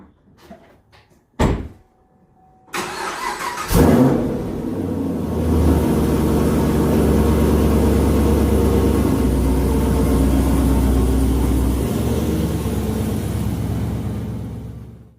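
A car door thuds shut, the starter cranks, and the engine catches into a steady, low rumbling idle that runs on alone.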